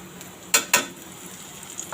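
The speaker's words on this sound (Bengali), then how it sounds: "তো সেটা আদা ভাজা করলাম" Ginger frying and being stirred in a pan for a curry, a soft steady sizzle with two quick scraping stir strokes standing out near the middle.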